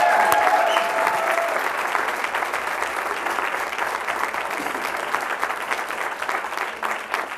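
An audience at a school board meeting applauds warmly and steadily for several seconds, a dense wash of clapping from a roomful of people that tails off slightly at the end.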